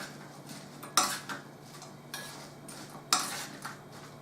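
A spoon or utensil scrapes and clinks against a bowl while sweet corn and peas are mixed into a spicy-sweet dumpling filling, a few sharp knocks among softer stirring sounds, close and quiet.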